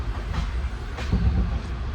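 An Andaman train rolls along the rails with a steady low rumble and rhythmic clatter of wheels over joints, loud and close throughout with no voices.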